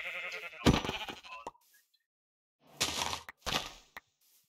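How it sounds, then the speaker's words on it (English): Blocky sheep in a Minecraft game bleat in short bursts, a wavering cry at the start followed by two louder clustered bursts with brief sharp hits between stretches of silence. "If I hear you killing the sheep, then I know you're close"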